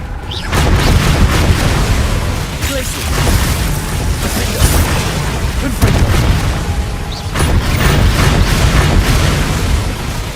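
Confringo fire spells blast in the Hogwarts Legacy video game, producing loud, dense booming explosions in continuous rolling bursts with brief dips between volleys, and a voice seems to call out over the din.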